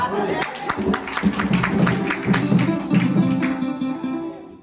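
Congregation applause at a fifteenth-anniversary service of a Haitian diaspora church in France, scattered claps over a room murmur with talk mixed in, fairly loud throughout.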